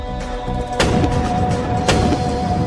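Two heavy booming cannon blasts about a second apart ring out over a steady musical background.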